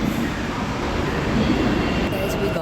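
A metro train arrives at a station with a loud, continuous broadband rumble and rail roar that fills the whole moment without a break.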